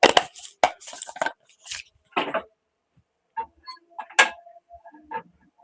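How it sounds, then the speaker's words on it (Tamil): Mustard seeds crackle and pop in hot oil while tempering a raw mango dal, with sharp irregular bursts of spluttering that thin out into sparse, lighter pops. "இப்போ கடுகு நல்லா பொரிஞ்சு வந்துடும்."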